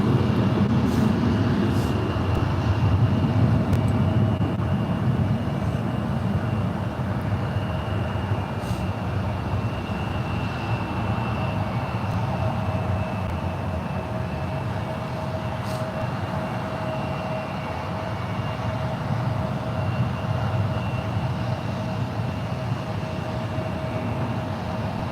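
Distant Virgin airliner rolling for takeoff on runway 28 at San Francisco International Airport, a steady broad engine roar that builds gently and holds for the whole stretch.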